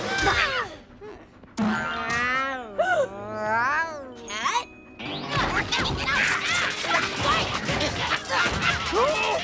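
Cartoon cat meowing and caterwauling loudly in a cartoon home scene, mixed with crashing and whacking impacts, followed by busy clattering commotion.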